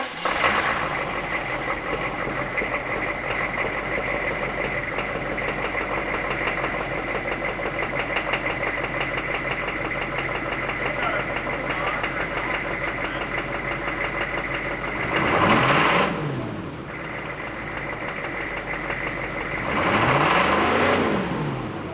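A 1-ton diesel pickup engine idles steadily after an injection pump change, a loud continuous rough clatter with a low drone, swelling briefly twice in short revs before settling back to idle.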